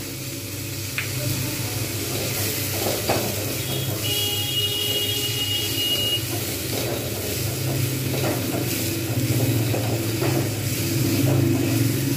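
Tomatoes and mung dal with turmeric sizzle steadily in hot oil, loud and close, while a spoon stirs and scrapes the pan now and then.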